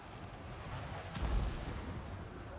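Artillery fires in a Total War: Warhammer 2 battle as a dense rumbling barrage, with a deeper boom landing near the middle against constant battlefield noise.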